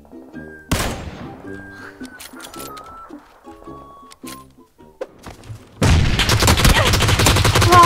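Gunshots in a video game: a handful of sharp single cracks scattered over quiet stretches with tonal game sounds, then a loud continuous burst of rapid fire at the end.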